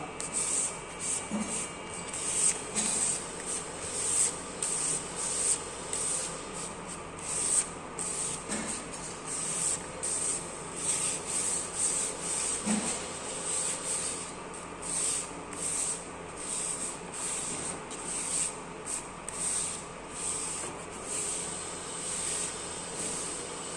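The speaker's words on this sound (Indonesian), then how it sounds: "kita amplas kembali menggunakan kertas amplas grade 400. Seperti ini, kita amplas ambang saja, jangan terlalu ditekan." Light hand sanding with grade 400 sandpaper, worked gently without heavy pressure: soft, quiet, repeated rubbing strokes in an even back-and-forth rhythm, faint and close, with no talk over it.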